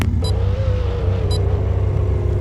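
Cars in the video game Demolition Derby 3 revving at a race start, a loud continuous engine drone with a rising and falling whine and a couple of brief sharp metallic blips.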